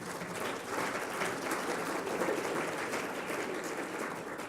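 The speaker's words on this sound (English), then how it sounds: "please applaud for" Audience applause at the HRO Today Forum 2017 CHRO of the Year Awards Gala, a steady, dense wash of clapping from a crowd that holds at an even level throughout with no talk over it.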